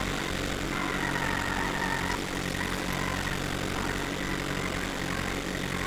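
A heavy truck engine idles steadily with a low, continuous rumble and droning hum, no talking.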